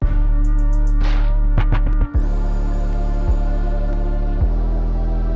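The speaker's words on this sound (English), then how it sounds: "I used a loud choir preset with 808s and pads" A trap beat loop with a loud choir preset over pads and booming 808 bass. A few bright opening notes give way to a thick sustained chord bed, with heavy low hits pulsing every second or so.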